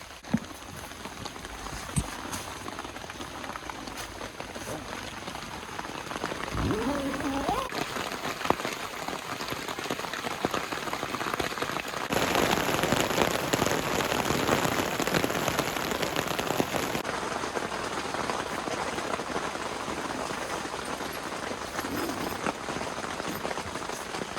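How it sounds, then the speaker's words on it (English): Heavy rain from Hurricane Beryl's remnants drums steadily on a tent, a dense close patter that swells louder midway and never lets up. "This rain is just insane, and it doesn't look like it's stopping now"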